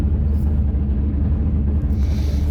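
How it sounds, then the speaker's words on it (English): A 347 Mazda drag car doing a short burnout in first and second gear at a drag strip, a loud, close, continuous low engine rumble and roar. "So a little burnout, just using first and second, roll it into the beams, still use the trans brake."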